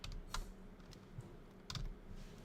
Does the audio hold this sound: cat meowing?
no